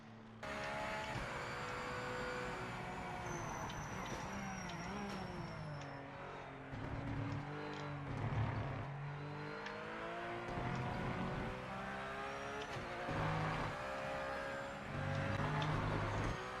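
Race car engine in the video game Project Motor Racing, a high continuous whine that rises and falls through gear changes and acceleration, steady and prominent, with no talking.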